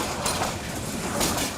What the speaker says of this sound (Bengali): সাপের মতো আঁকাবাঁকা রেলপথ, ট্রেন উঠতেই দুলছে।